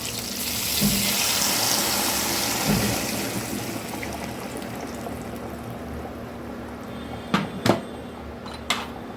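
Watery spice paste poured into a pan for steamed hilsa (ilish bhapa), a steady liquid pouring and splashing wash for about four seconds, then quieter kitchen noise with a few sharp clinks near the end.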